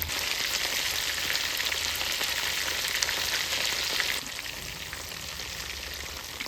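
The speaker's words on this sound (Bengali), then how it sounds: "প্রনগুলো খুব ভালো করে উল্টে পাল্টে ভেজে নেব।" Cornflour-coated prawns sizzle steadily in hot oil as they are turned over, a loud, dense crackle that holds for several seconds, then drops a little but keeps bubbling.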